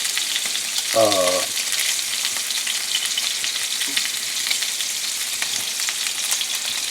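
Lamb chops searing in a pan over medium-high heat, a steady broadband sizzle running throughout, with a brief tonal clink or scrape near the start.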